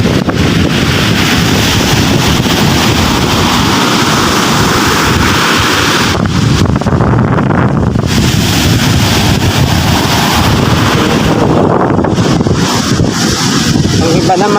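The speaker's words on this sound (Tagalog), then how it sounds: "Ngayon, ito na naman po ang hangin." Strong wind buffets the microphone at the seashore with a loud, continuous roar, and surf and boats sit underneath, easing briefly in short lulls before gusting again.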